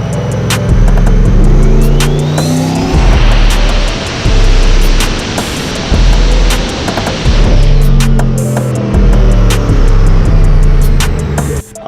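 A Nissan 240SX with a turbocharged 6.0L engine roars on a dyno. Loud, throbbing engine drone swells through several pulls, with a heavy low rumble and a whine building at full load.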